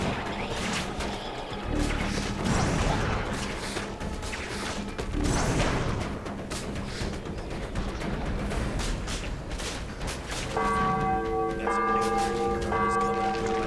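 A large bell rings out in the Spider-Man Web of Shadows video game, its sustained tones arriving in the last few seconds after a stretch of dense, noisy game sounds with crashes and impacts.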